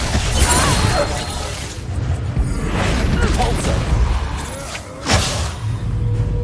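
A Reducto blasting spell explodes in Hogwarts Legacy gameplay, with loud booming impacts and crashing debris over a continuous dense game soundscape, punctuated by a strong burst near the end.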